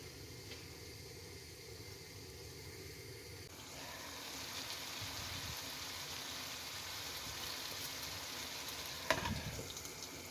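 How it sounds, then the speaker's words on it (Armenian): Onion softens in a pan with a low, steady frying hiss that grows a little louder midway, with a sharp stirring clink near the end; no talking. "Սոխը շատ չենք տապակելու, այնքան որ մի քիչ ինքը փափկի։"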